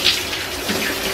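A household shower runs in a bathroom, a steady hiss of spraying water with a brief brighter splash at the start, heard alone.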